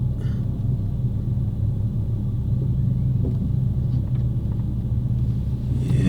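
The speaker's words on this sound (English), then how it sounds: "Alright, we got a car coming in hot." A car arriving fast at a car meet, its engine a low steady rumble throughout, fairly close, with a faint rise in revs near the end and no talking.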